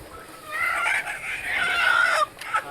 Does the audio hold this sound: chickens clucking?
yes